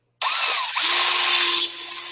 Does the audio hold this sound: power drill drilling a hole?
yes